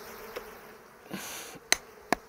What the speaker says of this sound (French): Et je laisse les abeilles, celle-là.